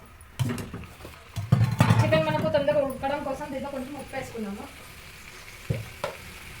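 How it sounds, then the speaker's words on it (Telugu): Chicken curry being stirred and mixed in a pan, with a soft sizzle and utensil scrapes running underneath someone talking, and a couple of sharper clinks near the start and end. "దీన్ని మంచిగా కలిపేసుకోవాలి"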